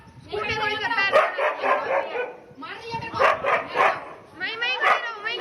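A dog barks and yelps close by in rapid clusters, pausing briefly between bursts, loud and agitated throughout.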